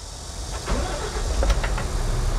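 A 5-ton food waste truck's engine, a G280 Euro 6 unit, runs with a steady low rumble, swelling slightly as it settles into a smooth, close idle with no talk over it.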